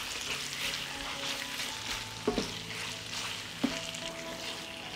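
Chicken livers with onion and garlic frying gently at low heat, a quiet continuous sizzle broken by two brief stirring knocks, no voices.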